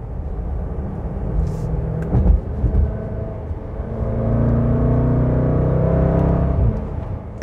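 A 2020 Range Rover Velar SVAutobiography V8 accelerates in fourth gear at light throttle, its engine a loud, steady, deep bellowing rumble that swells and holds over several seconds, heard from inside the cabin.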